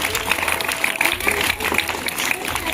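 School students at a school parliament election clap together in a steady, dense round of applause filling the room, with a voice faintly mixed in underneath.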